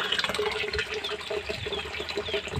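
Water from a drilled source flows strongly, a steady, close rushing and gushing that continues without a break and with no talk over it.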